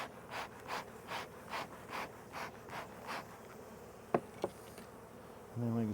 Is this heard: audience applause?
no